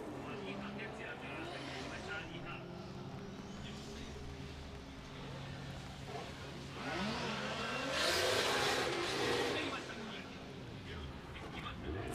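Drift car on a warm-up lap at Ebisu during Formula Drift Japan qualifying, engine revving and surging to a loud peak with tire noise, heard from a distance under steady commentary.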